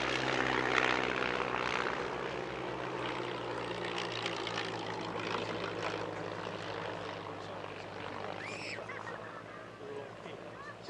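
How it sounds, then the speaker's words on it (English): An all-white de Havilland 60 Moth biplane at a family airshow, its propeller engine droning steadily and fairly distant across the whole stretch with a mild swell, under a faint low background hum. "the all-white de Havilland 60 Moth that was once owned and flown by Richard Shuttleworth"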